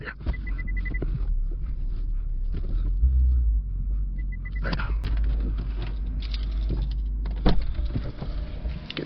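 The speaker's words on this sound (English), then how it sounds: "I can actually hear the engine now." Stock Lexus IS500 V8 idling through its original factory exhaust, a steady low rumble with a few brief revs and clunks from close by, quiet overall.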